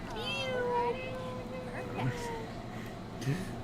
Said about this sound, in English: little kitten that's freaking out and grabbing its head with its paws